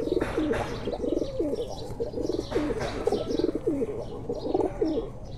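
Kuwaiti teddy pigeon cooing in a repeated, close rolling pattern, with several coo phrases in steady rhythm and faint chirps and outdoor noise behind.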